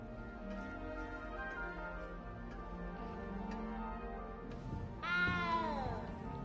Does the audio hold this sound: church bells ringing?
no